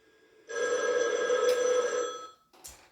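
A telephone bell rings once for an incoming call, a steady bright trill of about two seconds, followed by a brief clunk as the receiver is handled.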